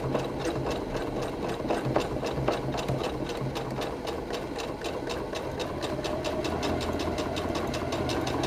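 Sewing machine stitching along corded edging on a cloth Covid-19 face mask with a quarter-inch presser foot, a loud, close, rapid mechanical chatter running continuously with a brief reverse-stitch change in rhythm.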